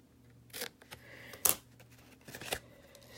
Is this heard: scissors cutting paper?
yes